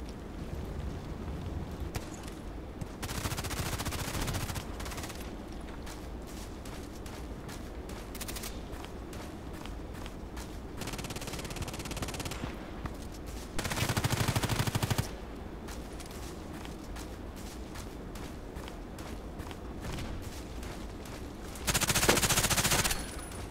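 Sniper video game gunfire: bursts of rapid automatic shots in several clusters spread across the span, with louder sustained volleys near the middle and end.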